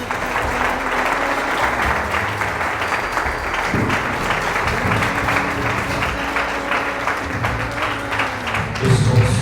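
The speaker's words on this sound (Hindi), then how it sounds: "मैसेज की जोरदार ताली बजाइए" A church congregation claps loudly together at a Hindi-Urdu Bible sermon, a dense, steady wave of applause that runs the whole time with a brief thump partway through and a short swell near the end.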